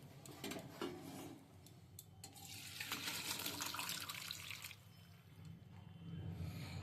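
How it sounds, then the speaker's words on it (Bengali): Hot water is drained off boiled pasta in a home kitchen, a faint, steady pouring splash with light clinks of cookware, rising to a fuller gush midway before easing. "এবার এটার জলটা আমি ছেঁকে নিচ্ছি।"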